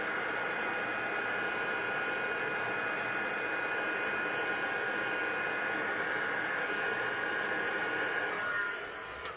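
A heat gun blows steadily over embossing powder on paper, a loud continuous airy whoosh with a faint whine that holds throughout and eases off at the very end.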